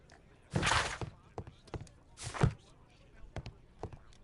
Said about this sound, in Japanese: Thanks to Wild, my analysis table has been completely destroyed.